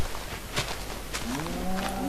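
A video game cow moos with a low, drawn-out call near the end, over a steady background hum and a few soft clicks.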